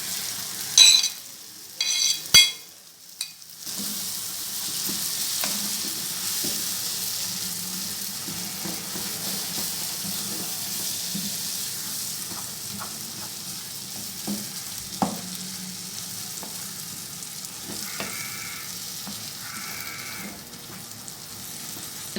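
Brinjal frying with softened tomatoes in a pan gives a low, steady sizzle with faint stirring scrapes, after a few loud knocks at the start and some brief higher tones later, with no talking.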